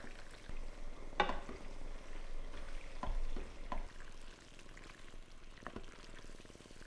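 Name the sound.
bacon lardons and pasta cooking in a pan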